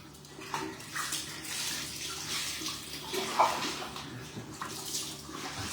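Water runs steadily from a tap into a basin while dogs are bathed at home, a continuous splashing hiss with small surges and no talk.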